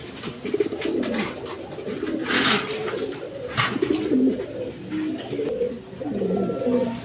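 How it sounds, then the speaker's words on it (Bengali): A pair of fancy Bolder pigeons cooing close by, repeated soft throaty coos with some rustling and a few brief higher sounds in between. "দর্শকবিন্দু এখানে এক পেয়ার বোল্ড বোল্ডার শৌখিন কবুতর আছে"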